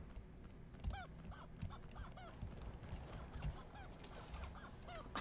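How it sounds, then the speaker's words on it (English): Repeated squawking, clucking chicken-like bird calls from Ultimate Chicken Horse sound in short, irregular bursts at moderate volume over a low background, with no talk. "Why is there a fucking chicken sound?"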